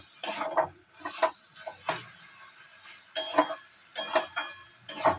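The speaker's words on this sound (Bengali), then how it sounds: "চিনিটা দিয়ে একটু নাড়াচাড়া করে নেব।" Stirring a pumpkin greens curry (kumro shaker ghonto) in a pan after sugar goes in, with a series of close, irregular scraping and clinking strokes of a spatula against metal and soft sizzling between them.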